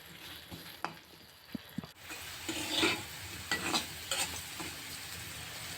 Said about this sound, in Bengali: 1 চিমটি লবণ হলুদ দিয়ে আলুটাকেও লাল লাল করে ভেজে নিব